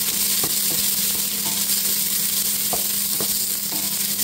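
Onions sizzle steadily in a hot pan while being sautéed for Filipino chicken sopas, a continuous frying hiss with occasional faint clicks of a utensil stirring.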